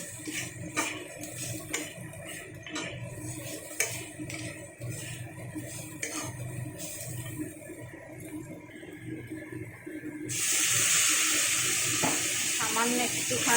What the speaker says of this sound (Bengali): তাই সামান্য একটুখানি জল দিয়ে দিলাম।